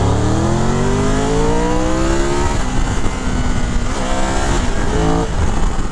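A Triumph Tiger 1200 Explorer Rally motorcycle engine revs hard and close, its pitch climbing through harmonic sweeps before easing off and rising again, loud and continuous with no talking.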